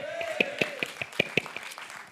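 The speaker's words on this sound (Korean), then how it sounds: "박수합시다" A church congregation at a Friday night prayer meeting claps in a quick, even rhythm, crisp hand strikes ringing over a sustained musical tone and a voice in the background.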